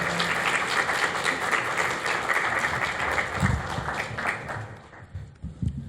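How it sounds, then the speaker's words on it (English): Audience applause at a poetry reading for a featured poet, a dense steady clapping that fills the room for about five seconds before thinning out and stopping. "We can clap for him."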